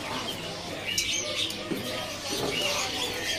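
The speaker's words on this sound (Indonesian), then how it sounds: "ini ada burung teledekan biru yang standar nih" A blue teledekan bird at a bird kiosk gives short, faint chirps over a busy background of other birds and market noise.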